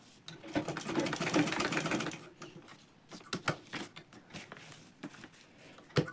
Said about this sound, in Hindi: थोड़ा आगे तक स्टिच लगाएंगे और लॉक स्टिच लगा देंगे।